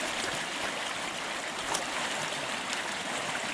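Creek water rushes steadily past a spot with old sagebrush and a former bridge site, a continuous broad hiss of flow with no pauses, close and moderately loud throughout.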